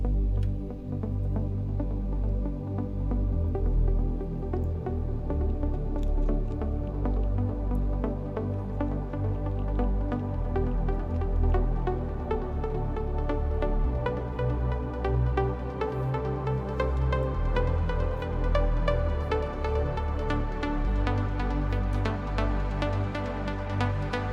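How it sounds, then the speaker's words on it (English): A trance synth pad with a high-cut filter gradually opening, sustaining thick low chords while the upper brightness slowly grows, played steadily at moderate level with no talk. "on the first pad, I've got the high-cut filter opening up, so it's going to sound like this."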